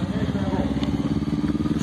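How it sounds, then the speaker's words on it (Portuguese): A custom motorcycle engine idles loudly at a vehicle event, its low, even throb pulsing steadily and close throughout, with faint clatter from the crowd behind it. "Não, essa moto roubou a cena"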